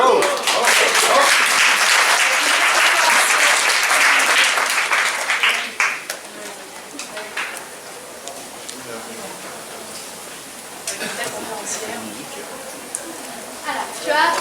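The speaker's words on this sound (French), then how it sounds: "On applaudit!" Audience applause breaks out at a storytelling conference talk, loud and dense for about six seconds before thinning to scattered claps and murmuring chatter, with a few late claps near the end.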